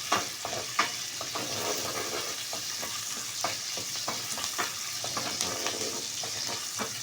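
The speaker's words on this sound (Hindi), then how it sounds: "इसको हम फ्राई करेंगे।" Whole red chilies and chopped green chilies fry in a pan, a continuous sizzle broken by repeated scraping stirs, close and fairly soft.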